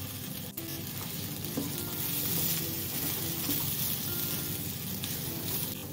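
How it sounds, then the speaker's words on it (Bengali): Rice and green peas fry together in a pan for peas pulao, giving a steady, loud sizzle with hissing crackle throughout and stirring scrapes mixed in. "মটরশুঁটি ও চাল একসঙ্গে 2 মিনিট আমি ভেজে নিলাম"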